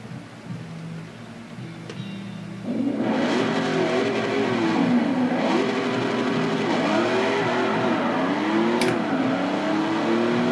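A truck in the racing game Forza 4 drives with a loud, steady engine drone that rises and dips through gear shifts, starting quieter and jumping in level after a few seconds as it accelerates.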